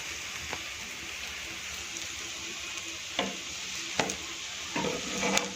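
Malpua batter frying on a hot tava, a soft continuous sizzle with a few sharp clicks and scrapes as the batter is pressed down, close and fairly quiet.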